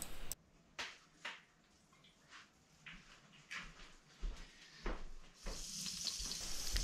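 Butter sizzling in a frying pan on a wood-burning stove ahead of browning oxtails, a soft crackle broken by intermittent sharp pops and clatters, swelling into steadier hissing near the end.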